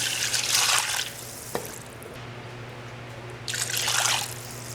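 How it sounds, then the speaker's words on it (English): Water drips and trickles into a simmering pot of Trinidad-style curry fish with peas, coming in two close splashy bursts at the start and end, with a low steady hum underneath. "Adding some water."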